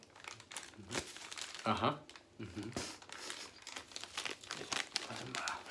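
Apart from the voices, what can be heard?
crinkling plastic ramen packet being opened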